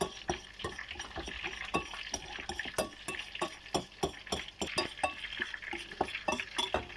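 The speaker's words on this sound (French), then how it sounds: "Maintenant on va écraser le jaune d'œuf." Cooked egg yolk is mashed in a bowl with a fork or spoon for a gribiche sauce, giving a quick run of scraping, tapping clicks against the dish, close and repetitive, with no talking.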